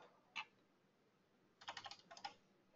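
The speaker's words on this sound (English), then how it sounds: "My keyboard's crapping out on me." Computer keyboard being typed on, with a keyboard reported as failing: a single soft keystroke, a pause, then a quick burst of clicking keys close by in a quiet room, with no talk.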